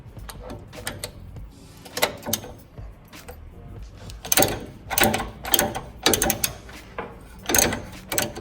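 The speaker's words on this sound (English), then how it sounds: "Use a smaller ratchet." A small ratchet wrench cranking a trailing arm bushing bolt on a Mitsubishi Montero, bursts of quick clicking strokes repeated several times, close and fairly loud, with pauses between turns.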